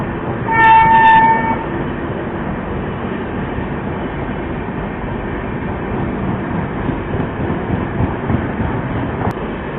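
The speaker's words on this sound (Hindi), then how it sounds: "विक्रमशिला एक्सप्रेस जो आनंद विहार से लेकर भागलपुर के बीच चलती है।" Vikramshila Express passenger train running between Anand Vihar and Bhagalpur, a steady loud rumble of wheels and carriages throughout, with a brief horn-like tone near the start.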